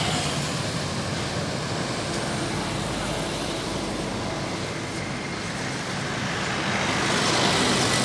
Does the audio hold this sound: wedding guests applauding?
no